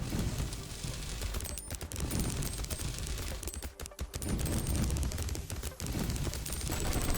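Enemy laser beams and projectiles fire nonstop in the mech bullet-heaven game Demon Hunt, a dense, rapid barrage of synthetic shots and blasts layered over one another, briefly thinning in places before resuming at full intensity.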